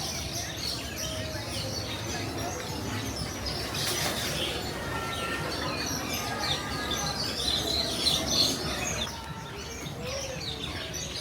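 A bird calls near its nest at Disney's Animal Kingdom, giving brief chirps over a busy outdoor background of crowd murmur and ambient noise, fairly faint.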